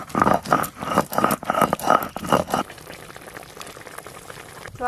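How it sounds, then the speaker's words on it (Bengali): A pot of sour broth made with bhetki fish bones boils hard, giving a dense run of bubbling and popping bursts for a few seconds before settling to a quieter simmer. "এবার কিন্তু খুব ভালো করে ঝোলটা ফুটাতে হবে।"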